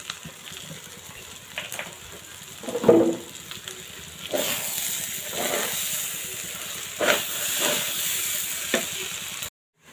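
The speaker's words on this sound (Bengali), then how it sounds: "এই তো চাল ভাজা প্রায় হয়ে গিয়েছে, আর সামান্য একটু ভাজবো।" Rice frying in mustard and white oil with onions for beef tehari, a moderate steady sizzle with occasional stirring scrapes, fairly close and without talk.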